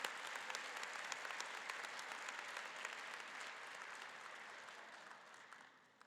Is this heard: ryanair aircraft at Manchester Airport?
no